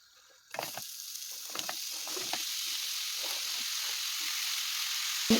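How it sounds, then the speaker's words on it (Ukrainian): Apples dropped into melting sugar and butter in a pan set off a sudden loud sizzle that keeps hissing steadily, with a few soft scraping stirs near the start. "Починає плавитися цукор, я додаю яблука."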